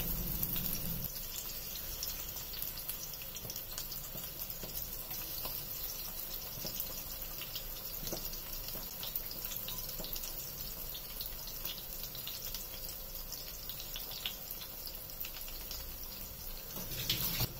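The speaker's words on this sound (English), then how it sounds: "You can see my fish is getting fried." A fish fillet fries in oil on a grill pan, a continuous, even sizzle and hiss that holds steady with little change, heard alone without talk.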